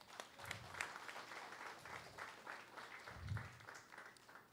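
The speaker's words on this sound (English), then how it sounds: "So one round of applause" Faint applause from a small devotional gathering honouring a yoga teacher at a Sunday love feast, light scattered clapping with a few murmured voices, distant and soft.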